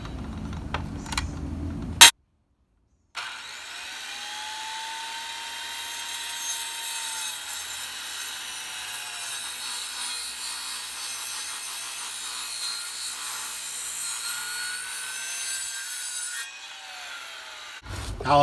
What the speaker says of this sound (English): I'll unplug the circular saw, plug in the sawzall, and complete the cut.